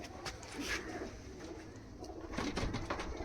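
Pigeons, including Giribaz pigeons, coo softly and repeatedly in a loft over a steady background hum, with a few brief louder calls toward the end.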